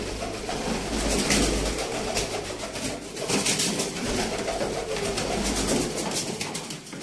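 Teddy pigeons coo steadily at a pigeon sale in Sialkot, their soft rolling calls close and continuous over a busy background of crowd and market noise.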